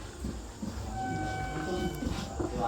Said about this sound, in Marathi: ही आपली नाही ट्रेन, एक्सप्रेस आहे एकदम.